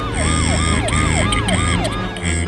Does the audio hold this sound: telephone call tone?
no